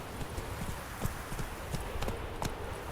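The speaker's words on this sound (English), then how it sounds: "been hearing galloping and terrible devilish howls" Horses galloping in The Witcher 3: Wild Hunt, a steady run of rhythmic hoofbeats thudding at moderate distance over a rushing background, with no one speaking.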